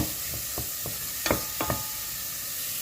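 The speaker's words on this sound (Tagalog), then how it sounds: "saute our red onion" Red onion sizzles steadily in a hot pan for a beetroot vegetable soup, a constant frying hiss broken by a few close stirring scrapes and knocks, with no voices.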